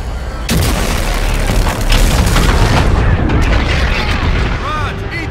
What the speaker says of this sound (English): all fire on that supercarrier!